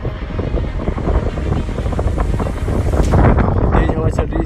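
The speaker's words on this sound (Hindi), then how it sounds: "तेज़ हवा चल रही है" Strong wind at a mountain paragliding site in Uttarakhand roars steadily into the microphone, a dense low rumble with gusts that swell louder toward the end.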